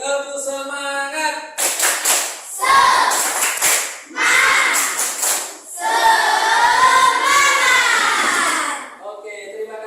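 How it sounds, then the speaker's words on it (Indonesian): A class of young schoolchildren in an Indonesian classroom performs a rhythmic spirit clap in several bursts of sharp clapping, separated by the teacher's voice and children's chanting. "terima kasih anak-anak karena tadi sudah tepuk semangat ya"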